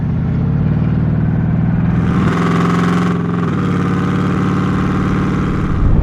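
A Koenig Specials widebody Mercedes 560 SEC hums loudly at a steady pace while driving, briefly shifting pitch midway as if changing gear, then settling back into a throaty drone.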